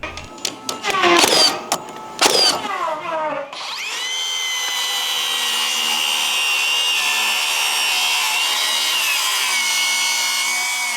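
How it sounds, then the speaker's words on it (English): Makita 40 volt circular saw ripping lengthwise through timber: a few short bursts of cutting first, then a loud, sustained whining cut that holds steady to the end. "when it comes to ripping timber, this is where the 40 volt saw really starts to shine"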